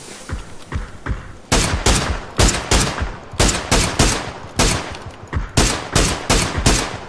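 Bursts of M16 rifle fire in the PUBG battle royale game, several rapid volleys repeating in a steady rhythm, loud and close with no talking.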